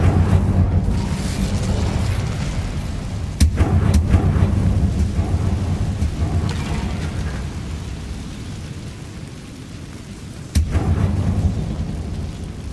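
Casting the Incendio fire spell in Hogwarts Legacy brings a loud, rumbling roar of flame. Two sharp bursts stand out, one early and one late, over a continuous low whoosh.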